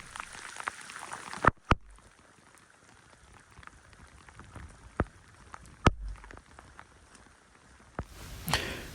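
Heavy rain falling on a wet hillside paddock, a steady close patter of drops with a few louder knocks and splashes, ending in a brief rush of noise.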